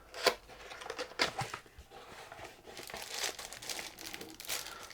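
Packaging of a Deltaco TB-631 Bluetooth keyboard with Nordic layout being opened, giving continuous close crinkling and rustling with a few sharper crackles and tearing bursts throughout.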